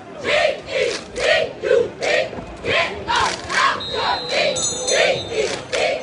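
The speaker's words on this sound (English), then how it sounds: "They cheering for him" Rhythmic chanting and cheering from a stadium football crowd at a high school game, rising and falling in regular surges at a distance, with a faint whistle-like tone partway through.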